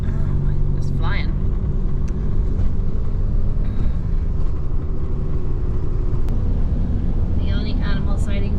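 A truck rumbles steadily down a highway in the Yukon, a dense, constant low roar of road and engine noise filling the whole stretch, with faint voices audible beneath it.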